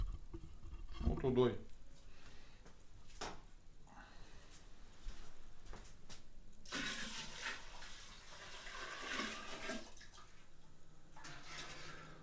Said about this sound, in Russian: Сейчас берем ее и сливаем в бочку.